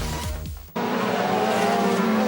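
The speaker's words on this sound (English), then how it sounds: "Cars are now beginning to line up for the start of the sprint race here in Chengdu." A1GP single-seater race cars at the Chengdu circuit as they line up for the sprint race: an engine sweeps past loudly, cuts off abruptly, then a steady droning engine note continues, with no talk.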